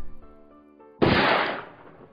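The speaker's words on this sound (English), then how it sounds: "A loud gunshot echoed, and then King collapsed." A single loud, close gunshot sound effect bursts out suddenly after a quiet musical passage, then its sharp blast decays into a fading echo over about a second.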